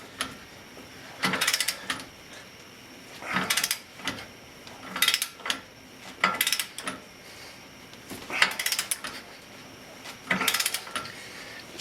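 A torque wrench tightening the 36 mm wheel bearing nut on a Ford Mustang, heard as repeated bursts of metallic ratcheting clicks in short pulls with pauses between, close but moderately quiet.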